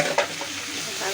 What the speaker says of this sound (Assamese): ভালকৈ লৰাই ল'ম।